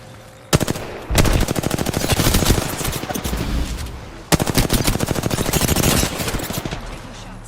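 Automatic weapons fire in Apex Legends, two long loud bursts of rapid machine-gun shots separated by a short pause, close and dominant.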